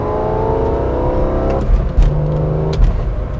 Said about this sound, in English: Just because you want to hear those revs.